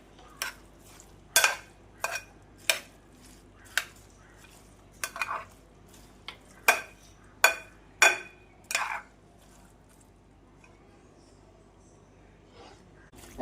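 A spoon works through fruit salad with nuts in a bowl, giving about a dozen sharp, separate clinks and knocks over several seconds before it goes quiet. A faint voice sits low underneath.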